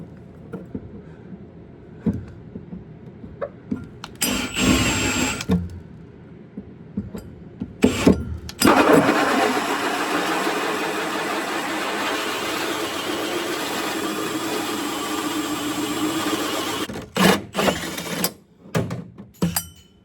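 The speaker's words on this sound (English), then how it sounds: "it'll be a 2 1/4 hole saw. And this is where we get to make the good mess." A drill with a 2 1/4-inch hole saw cuts through the bed of a 2023-2026 Ford F250/F350/F450 pickup for a trailer plug, giving short bursts and then a long, steady grinding whir before stopping.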